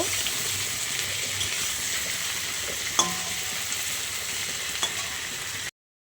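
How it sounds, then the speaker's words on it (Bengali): Continuous hissing sizzle of prawns frying in hot oil, steady and close, with a couple of faint clinks along the way. "চিংড়িটা ভাজা হয়ে এসছে, এবারে নামিয়ে নেব।"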